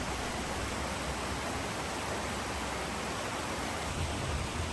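A mountain valley stream at Uidong on Bukhansan in Seoul runs full the day after rain, giving a dense, even rush of flowing water with no pauses.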